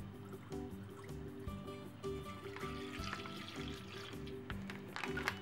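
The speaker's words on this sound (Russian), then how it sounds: "наливаю молоко в кастрюльку" Pasteurized milk pours steadily into a small saucepan, a soft continuous gurgling stream, close and fairly quiet over a low background hum.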